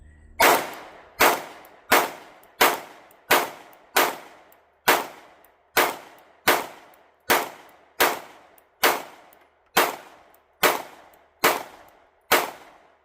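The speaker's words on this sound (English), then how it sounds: "Man, I really just cannot stop shooting this gun." A Sig Sauer P365 Macro handgun fired in a steady series of about sixteen sharp, loud shots, each roughly 0.8 seconds apart with a short decaying ring, and no talking.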